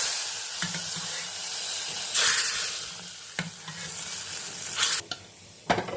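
A hot popu tempering is poured into mashed mango dal and sizzles with a continuous hiss, with several sharper crackling bursts and stirring scrapes, close and loud with no talking.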